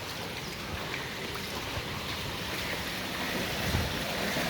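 Rain falling on a waterlogged road under repair, a dense, steady wash of splashing water and hiss that grows slightly louder toward the end, with no voices.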